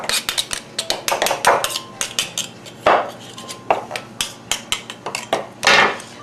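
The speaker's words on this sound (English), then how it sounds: "I'm just using my pastry cutter as if it were a fork or a mixing spoon just to get the dough bound together" A metal pastry cutter clanks and scrapes against a bowl as dough is mixed, producing a rapid, irregular series of close, bright clinks and taps with no talk.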